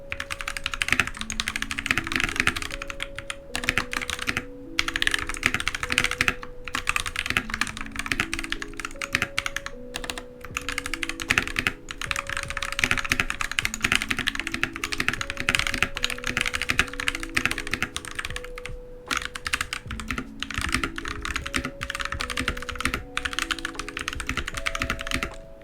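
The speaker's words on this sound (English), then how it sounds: "so here's some typing ASMR" Steady typing on a mechanical keyboard with Gateron Brown switches, crisp, rapid clacking keystrokes, continuous and close, with short pauses between bursts and no talking.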